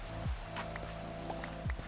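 Rain falling in the Hardcore World video game: a steady close patter of drops on surfaces with a few brief splashy swells, moderately quiet and continuous, no voices.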